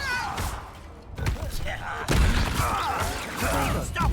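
Confringo spells cast in Hogwarts Legacy combat land as sharp explosive thumps and slams, several impacts spread across the clip amid game noise and voices.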